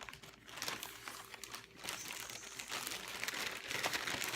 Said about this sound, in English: Pardon the crinkling, but if I don't put it back, it's not getting put back.